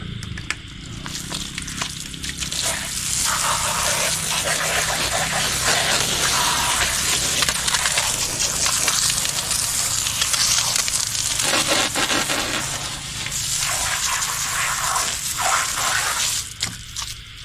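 Water pouring and splashing over feet being washed outdoors at night after rain; a continuous broad rush with uneven splashy surges, fairly close.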